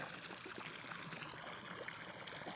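Water runs steadily out of a fishing boat on a creek, a soft continuous trickle and gurgle at low volume with no talking.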